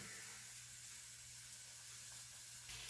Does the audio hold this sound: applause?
no